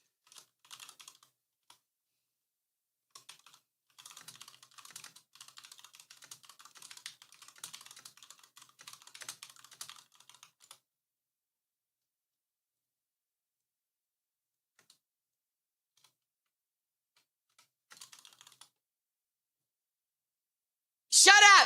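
Fast typing on a computer keyboard comes in quick, clattering bursts with pauses between, close and fairly faint, ending in a brief loud sharp burst of sound.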